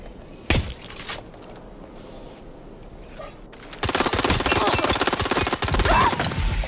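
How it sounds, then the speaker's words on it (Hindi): A single sharp pop near the start, then a long stretch of dense, rapid crackling bursts from a small firecracker in Watch Dogs Legion, loud and continuous like a string of small firecrackers going off. "कोई छोटा पटाखा था ये।"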